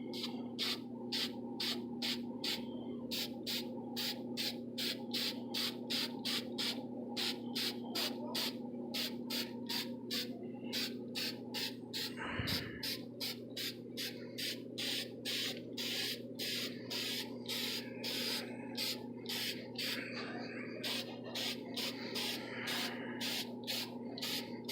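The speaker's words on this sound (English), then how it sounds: "now I'm going to use some clear acrylic gloss coating" Clear acrylic gloss coating sprayed from an aerosol can onto homemade cosplay spats and shin guards, heard as a long run of short rhythmic hissing bursts, quiet and close, with one brief bump midway.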